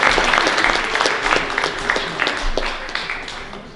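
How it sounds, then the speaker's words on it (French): An audience at a conference applauds, dense clapping filling the room briefly and then gradually thinning out. "ça mérite un petit applaudissement peut-être dès le départ"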